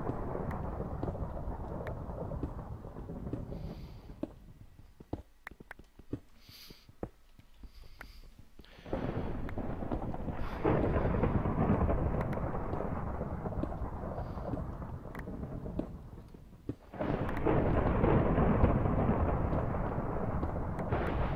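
Thunder during a thunderstorm in the Minecraft modpack Polycraft, long loud rolling rumbles that swell, fade into quieter stretches and return, with a few sharp cracks and no talking.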